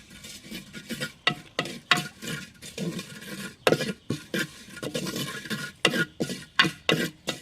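A spoon scrapes in rhythmic, repeated strokes through mild chili powder and fried onions in a pan, with a soft sizzle underneath, close by.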